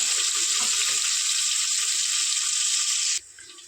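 Green onions hit hot tempering oil with a loud, steady, close hiss of frying that holds evenly for about three seconds, then drops abruptly to a much quieter sizzle.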